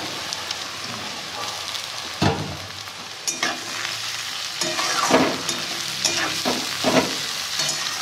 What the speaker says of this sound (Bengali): সবজিগুলো অনেকটাই ভাজা হয়ে গেছে, এবার এর মধ্যে অ্যাড করবো হচ্ছে ক্যাপসিকাম।